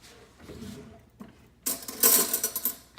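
A metal spoon clinks against a dish while protein brownie batter is being made, giving a few quick, bright taps close to the microphone after quieter handling sounds.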